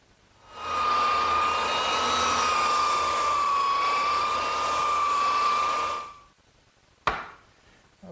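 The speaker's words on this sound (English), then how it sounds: "So now's the time for me to take my belt sander and smooth it out." Belt sander smoothing a wooden kitchen table top, a steady loud whining drone that runs for about five seconds, then winds down, followed by a brief sharp knock.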